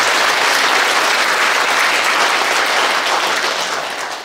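A church congregation at a Sunday worship service breaks into loud, sustained applause for the praise team, a dense clapping roar that tapers off slightly at the end.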